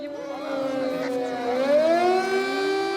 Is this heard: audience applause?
no